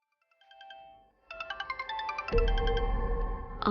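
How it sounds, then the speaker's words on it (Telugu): A mobile phone rings in a home, its electronic ringtone chiming in a repeated melodic pattern with a steady rhythm, fairly loud and close, with background music swelling partway through. "ఆంటీ ఏంటి ఇంట్లో ఉండి ఫోన్ చేస్తోంది?"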